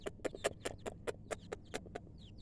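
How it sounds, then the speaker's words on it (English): Backyard turkey among young chickens, giving a run of short, rhythmic clucking calls about every quarter second, close and moderately loud over low farmyard background noise. "Turkey."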